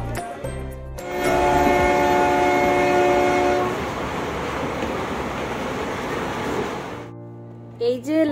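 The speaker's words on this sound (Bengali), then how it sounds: "আর এই ট্রেনে করে সোজা এখন আমরা যাব শিলিগুড়ি।" A train at a station, bound for Siliguri, sounds a long loud horn over a heavy rolling rumble that fades after several seconds, followed by a brief voice at the end.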